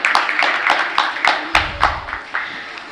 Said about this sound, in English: Round of applause for our speakers, please.